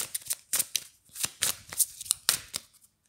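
Oracle cards from the Namasté oracle deck being shuffled by hand, a close, fairly quiet series of crisp papery riffles and slaps in an uneven rhythm, about a dozen bursts over a few seconds with no talking.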